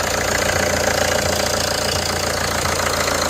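A diesel car engine idles steadily after an oil change, left running to warm and circulate the fresh oil; a continuous loud rumble with a faint periodic knock, no talking.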